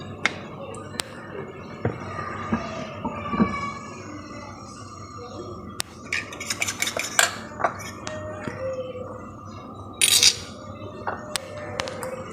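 Shami kabab mixture is beaten in a bowl with a utensil: intermittent clinks, taps and stirring scrapes over a low background hum, busiest toward the middle and end.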